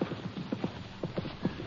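A free-moving horse's hooves clip-clop at a steady walking rhythm in an old radio drama, clear repeated hoof knocks on hard ground at moderate distance.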